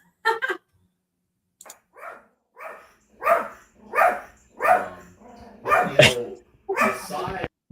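A dog barks close by in a string of sharp, repeated barks that come quicker and louder toward the end, over quiet background with no clear talk.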